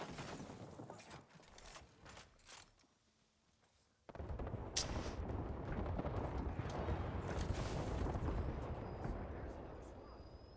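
Airstrike explosions in the Apex Legends video game: a dense, loud barrage of booming blasts that sets in abruptly and rumbles on continuously, after a stretch of quieter scattered gunfire.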